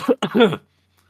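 A brief, close double cough with a wet, throaty catch, like choking on spit, followed by silence.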